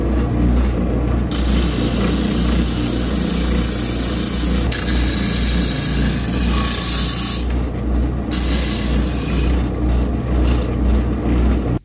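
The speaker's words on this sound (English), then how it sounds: "I use this sander here to kind of cut and carve out some nice grooves for my fingers" A sander grinds steadily and loudly as it carves finger grooves into a goat horn for a Viking bukkehorn, a continuous harsh hiss with brief changes in pressure and no talk.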